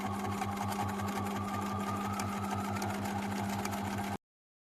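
A sewing machine stitches fabric appliqué in a steady, fast mechanical whir with a regular needle pulse, running loud and close until it stops abruptly near the end.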